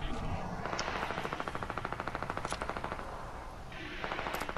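Sustained automatic assault rifle fire in a video game, a rapid steady stream of shots lasting several seconds, loud and close, with brief gaps near the start and end.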